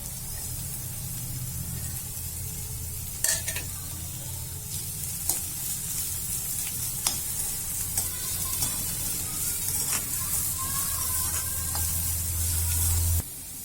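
Onion, spring garlic stalks and coriander frying in hot oil for cabbage manchurian, a steady close sizzle with occasional stirring scrapes and clinks throughout.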